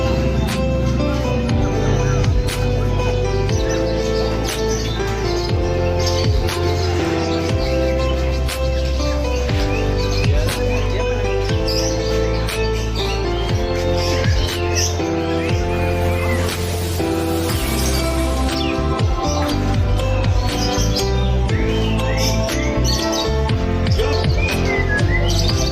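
Murai batu and kacer songbirds sing continuously at a bird contest, layered chirps, whistles and trills overlapping for the whole span, with crowd chatter and voices underneath.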